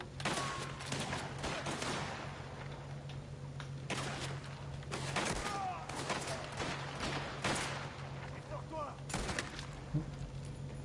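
Video game gunfire cracks out in sporadic, sharp bursts of shots scattered across about eleven seconds, fairly faint, with voices present in the background.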